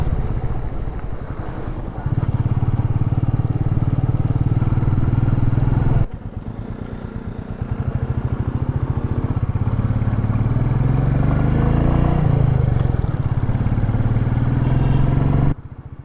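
A motorcycle cruises along a narrow mountain road near Munnar on the GAP Road in Kerala, its mid-pitched engine droning steadily and close, with brief dips and shifts in tone and wind rush throughout.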